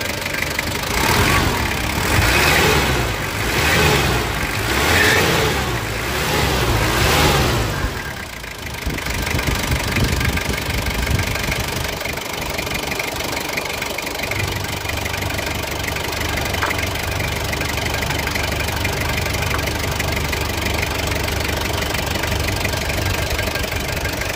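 A 2005 Ford Everest TDi diesel engine runs with a knocking, rhythmic rumble, revving louder at first, then settling into a steady idle.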